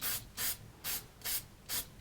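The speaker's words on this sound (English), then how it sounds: "nice light touch with that spray can" A spray paint can lays black paint onto a cedar wood sign in five short, even hissing bursts, each about a quarter second, separated by brief pauses, close to the mic.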